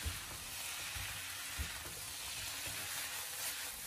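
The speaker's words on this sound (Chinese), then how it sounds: "将它快速的翻炒一下，把它翻炒均匀" Cucumber, pork slices and red pepper are stir-fried over high heat in a wok, making a faint continuous sizzling hiss with a few soft low thumps as the food is tossed.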